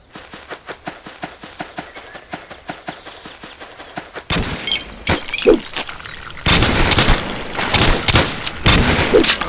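Gunfire and impacts in the video game The Blood Rain: a rapid series of sharp shots gives way to louder bursts and a roaring, crackling blaze that fits a thrown Molotov cocktail igniting, dense and continuous near the end.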